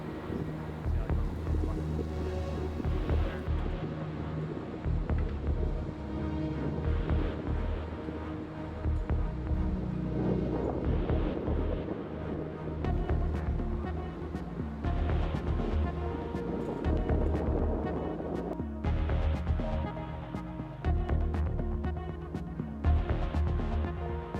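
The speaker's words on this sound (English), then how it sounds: "At last, we set sail from Dover." Ferry departing Dover for Calais, a steady low engine throb and rumble with wind noise running throughout, continuous and fairly loud.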